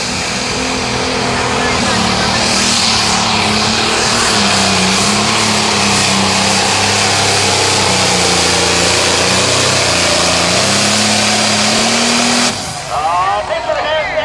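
A 9500 limited pro stock pulling tractor roars loud and sustained through a Friday night tractor pull at Mound City, Missouri, engine pitch wavering as it pulls, then cutting off abruptly near the end.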